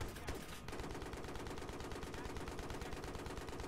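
Rapid automatic gunfire in the video game Battlefield 3, a steady stream of close, loud shots with no pauses and no speech.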